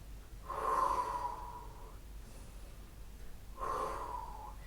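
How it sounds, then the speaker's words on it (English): Two heavy, breathy exhalations puff out close by during exercise, each lasting over a second, separated by quieter breathing. "as if you can't hear me puffing and panting"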